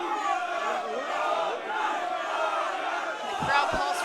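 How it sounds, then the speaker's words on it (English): A wrestling crowd chants and yells in a loud rhythmic roar during a multi-man match, the voices swelling together, with a couple of sharp thuds near the end. "The crowd calls for another."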